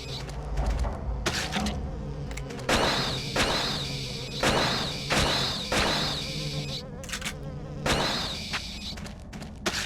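Insects buzz amid the eerie ambience of the Silent Hill 4 video game, a droning hum broken by repeated sharp, knock-like bursts at irregular intervals.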